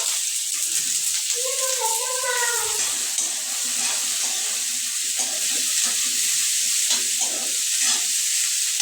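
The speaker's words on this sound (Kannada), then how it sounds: "ಮೊದಲು ಈರುಳ್ಳಿ ಏನು ಹೀಗೆ ಹೆಚ್ಚಿಟ್ಕೊಂಡವಲ್ಲ ಇದನ್ನು ಹಾಕಿ ಚೊಲೋತ್ನಾಗ ಫ್ರೈ ಮಾಡ್ಕೋಬೇಕು" Chopped onions drop into hot oil for a Dhaba-style paneer masala gravy, setting off a loud, steady broadband sizzle that lasts throughout, with a voice speaking briefly near the start.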